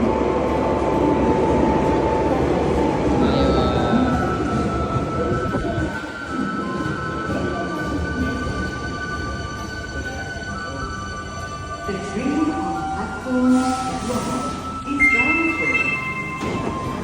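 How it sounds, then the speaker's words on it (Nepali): A train pulls into a station in Japan, its low rumble and wheel noise building then easing, with faint squeals and hums, while a person talks nearby. "आयो ट्रेन"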